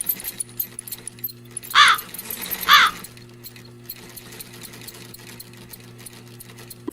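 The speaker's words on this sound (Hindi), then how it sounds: "वो अपनी माँ की सिलाई मशीन निकाल कर उस पे सिलाई करने लगती" Cartoon sewing machine whirring in a steady mechanical hum as a little bird stitches, with two sharp chirps over it.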